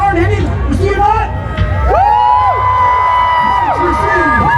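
A crowd at a Renaissance fair joust cheers and whoops loudly in a sustained roar of mixed shouts and excited high-pitched voices, with an announcer speaking over it.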